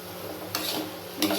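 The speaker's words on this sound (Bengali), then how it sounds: "এই যে কড়াইশুঁটি দিচ্ছি।" Green peas tumble into spices frying in a wok, giving two short scraping, sizzling bursts over a steady low frying hiss.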